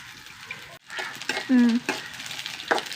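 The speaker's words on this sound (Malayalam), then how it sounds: "തേങ്ങാക്കൊത്ത് നെയ്യിൽ വറക്കുമ്പോൾ നല്ല മണം മൂക്കട്ടെ നന്നായി മൂത്ത് വട്ടെ" Coconut pieces frying in ghee in a pan, a soft close sizzle with scraping stirs and light clinks, under a voice speaking.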